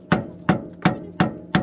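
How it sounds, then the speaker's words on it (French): A hammer strikes five times at an even pace, each blow sharp and close, with short quiet gaps between the hits. "j'ai un marteau, on va essayer au marteau"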